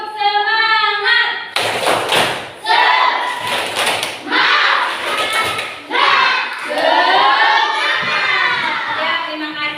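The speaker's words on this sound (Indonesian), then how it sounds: "Tepuk semangat." Children shout and clap together in a rhythmic classroom spirit chant, loud bursts of claps and voices repeating in short patterned phrases, with a child singing before the chant starts.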